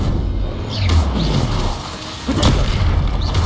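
Spell explosions from Confringo and Bombarda casts in Hogwarts Legacy, two deep booming blasts about a second and a half apart over a steady rumble of game background noise.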